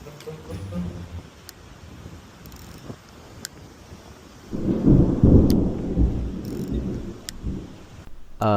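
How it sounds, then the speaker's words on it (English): A deep rumble of thunder from a thunderstorm at a marina rolls in midway, loud and low, swelling then fading slowly, after quieter background noise with a few faint clicks. "remember that thunderstorm I keep talking about?"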